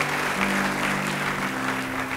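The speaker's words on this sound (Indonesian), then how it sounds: "Beri tepuk tangan buat Tuhan." A church congregation claps together in a steady, dense wash of applause, loud and close, with no gaps across the moment.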